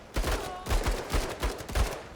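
Gunfire in the video game MENACE, five heavy shots or short bursts spaced about every half second, loud and close with booming low ends and no talk.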